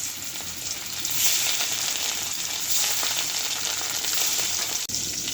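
Small fish pieces fry in a hot wok with cumin, producing a loud, steady hissing sizzle that swells after the first second, alone and close.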